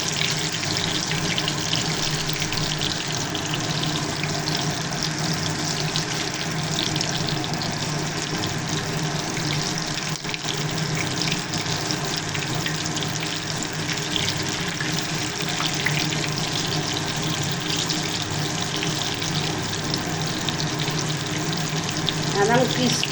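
Pumpkin fritters (chalkumro bora) coated with rice flour fry in hot oil, giving a steady, even sizzle and hiss that runs unbroken throughout.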